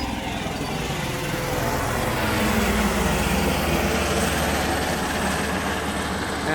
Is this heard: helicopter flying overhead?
yes